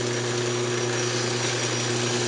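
Maple box spinning on a woodturning lathe while being sanded with 600 grit paper: a steady, close whirring hiss with a low motor hum, unbroken throughout and with no talking.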